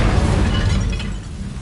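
An Incendio fire spell cast in the Hogwarts Legacy video game erupts as a loud, dense burst of roaring, crackling flame that holds steady for over a second and fades slightly near the end, with no voices.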